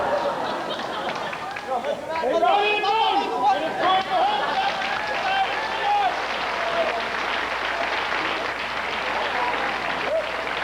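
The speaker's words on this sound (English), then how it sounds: "And the crowd goes wild." A studio audience breaks into applause and cheering, a dense, sustained wash of clapping that swells after a brief spoken exchange and carries on loudly to the end.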